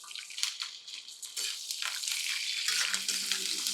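Onions and curry leaves sautéing in hot oil with peanuts and cashews, crackling sizzle mixed with stirring and scraping, close and moderately loud, building steadily after the ingredients go in.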